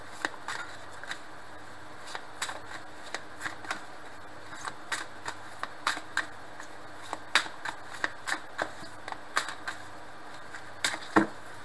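Tarot cards are shuffled in a quiet room, with soft irregular riffles and sharp card snaps scattered throughout, faint and close.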